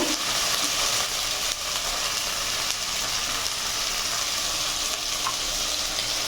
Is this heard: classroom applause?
no